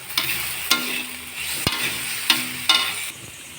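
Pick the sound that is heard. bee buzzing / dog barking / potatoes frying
potatoes frying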